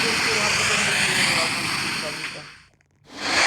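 A jetpack in the Roblox video game, a loud, steady rushing roar like a jet engine that fades out to near silence before surging back at the end.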